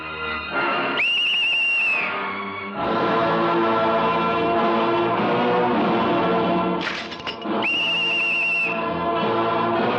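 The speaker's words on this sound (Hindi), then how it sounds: "मर्द ये सीटी बजाते हैं। पहले मैं बजा लूं" A man blows a loud, shrill whistle in a Bollywood film scene, two sustained blasts several seconds apart, with a dense, busy soundtrack filling the space between them.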